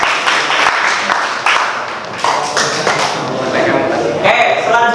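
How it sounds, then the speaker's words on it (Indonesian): Applause from a group in a school supervision session, brisk clapping running throughout at moderate loudness, with voices talking underneath. "Oke, beri tepuk tangan."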